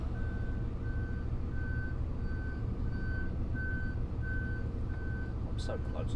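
A truck reverses toward a building, its backing alarm beeping in a steady, regularly spaced pattern over a constant engine rumble, with a brief squeal near the end.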